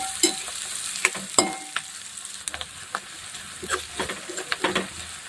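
Chopped onion frying in oil in a pan, with a steady soft sizzle broken by repeated sharp clinks and scrapes of a spoon stirring, close up and without voices.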